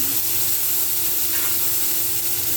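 Onion, tomato and potatoes frying in a pan, giving a steady, loud, close hiss and sizzle that stays even throughout with no talk.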